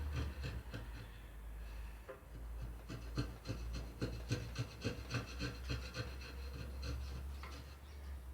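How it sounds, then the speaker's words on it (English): Wood being smoothed by hand for a kids table, a soft rhythmic rasping rub of repeated strokes, close but fairly quiet, with no speech. "I'm just smoothing it a bit."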